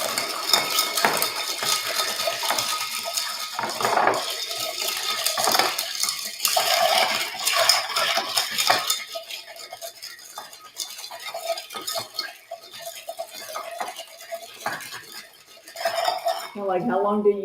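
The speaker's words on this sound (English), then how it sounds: "how long do you stir till it's like chilled, right?" Ice and spoon clinking against a glass as a drink is stirred to chill it, a steady run of close metallic rattles that thins out and pauses before a brief final burst.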